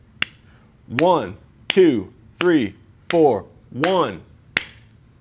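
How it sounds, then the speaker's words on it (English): Hands clap a steady beat for a beginner rhythm-reading lesson, seven sharp, evenly spaced claps roughly every 0.7 seconds, with a voice counting aloud between them. "I will clap the beat"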